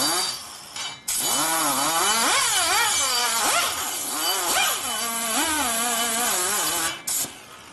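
Cutting a valve seat in the aluminum cylinder head of a 2004 Harley-Davidson FLHT Twin Cam: a close, continuous scraping squeal whose pitch wavers and sweeps, with brief pauses at the start and end and no talk.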